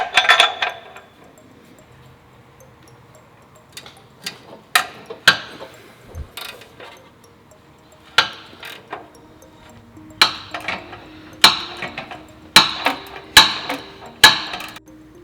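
Wrench working stubborn O2 sensors out of a Lexus IS F exhaust header, giving scattered metallic clicks and ratcheting taps, some in quick clusters, close and fairly quiet against a near-silent garage.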